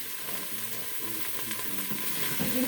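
Onions and garlic sizzle in a hot Instant Pot on saute, a steady crackling hiss with brief stirring clatter, getting a little louder near the end, with no talk.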